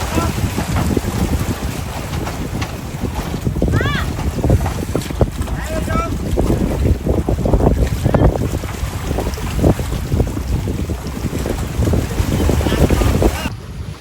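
A wooden boat crosses Marunda harbour in Indonesia: a continuous rumbling drone of the ride with water wash and buffeting wind across the microphone, and faint voices mixed in.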